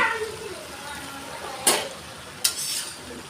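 Leafy greens with turmeric, cumin and a pinch of sugar are stirred in a pan, with a soft background fry and two sharp scraping strokes of a spoon against the pan near the end.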